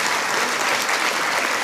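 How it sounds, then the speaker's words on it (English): A civic gathering's audience applauds students and band members, a brief burst of dense, loud, even clapping. "students and band members, thank you very much. Please give them a big round of applause."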